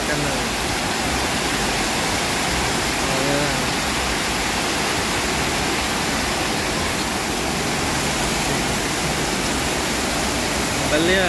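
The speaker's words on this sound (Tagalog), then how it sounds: "Magkakusog ang tubig dire sa mga sapa." Strong, steady rushing of a small creek flooding after heavy rain, a dense continuous roar filling the whole clip with no pauses.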